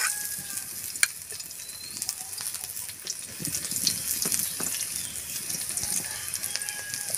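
Onion goes into a pan of garlic already frying in oil for a tofu dish, producing a continuous soft sizzle with occasional stirring clinks and scrapes, close and moderately quiet, no talking.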